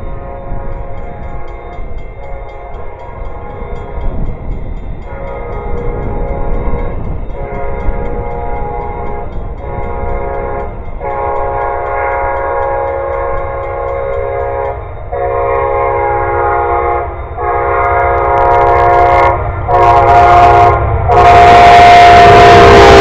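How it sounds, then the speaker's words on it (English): A train rumbles past up close, its horn sounding in long repeated blasts over the steady roar of the cars, growing louder toward the end. "another train"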